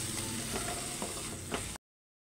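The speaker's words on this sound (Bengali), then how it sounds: "দিয়ে একটু নাড়াচাড়া করে নেব।" A paste of cashews, green chilies and yogurt is stirred in a pan. Soft scraping and a low sizzle with a few clicks of the spoon run steadily, then cut off abruptly.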